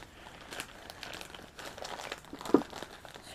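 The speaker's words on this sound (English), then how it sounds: "that little plastic bag. So you, look, you just throw it in there." A small plastic bag crinkles and rustles as it is packed into a homemade DIY GoPro case, with close, soft, irregular crackles and one sharper crunch near the end.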